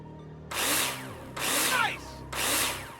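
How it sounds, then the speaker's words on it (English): Power drill driving screws into plasterboard in the Builder Simulator video game: three loud whirring bursts, each about a second long, separated by short pauses, with no talk. "Take your drill out and screw them in."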